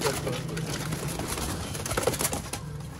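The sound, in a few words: golden pigeons cooing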